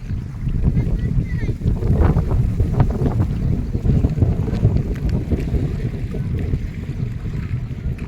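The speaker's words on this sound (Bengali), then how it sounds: "হাওয়া চলছে এতই শব্দ হচ্ছে এখানটাতে" Wind blowing hard across a lake in Hyderabad, a steady loud rush and buffeting on the microphone that lasts the whole clip, with a broad low roar and no clear speech.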